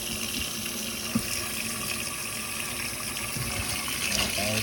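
Tap water running into a sink while beans are rinsed, a steady close gushing stream with a few light knocks, heard alone without talk.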